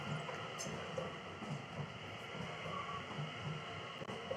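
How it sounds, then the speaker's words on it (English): A train rolls past close to a cycle path near Utrecht in the Netherlands, a continuous rumbling wash with faint rhythmic wheel clatter and a steady high ringing tone, with no talk. "A train, a train, a train."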